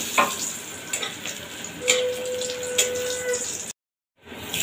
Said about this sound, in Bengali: এবার ওই তেলেই 5-6টা বড়ি আমি ভেজে নেব।